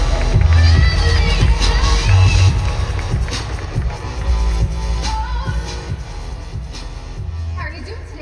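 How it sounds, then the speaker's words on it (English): Audience at an on-stage product presentation applauds and cheers loudly as a presenter joins the stage, a dense crowd roar with whoops and shouts throughout. "Miss Angie Charlo, a big round of applause as she joins me on stage."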